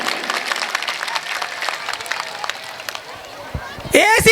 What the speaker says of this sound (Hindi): एक बार जोरदार तालियां मधु भैया के लिए बजाइए।